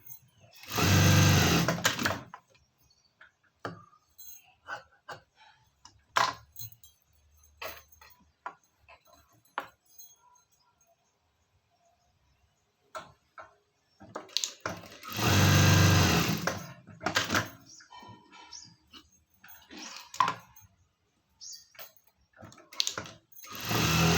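A sewing machine stitches a patch onto a blouse piece in two loud bursts of fast running stitches, with quieter handling clicks and rustles of fabric between them.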